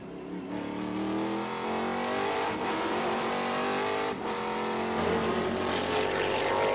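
A Trans Am race car engine at Sonoma wails loudly and continuously, revving up through the gears with sharp drops at shifts before climbing again, close and sustained with no talk.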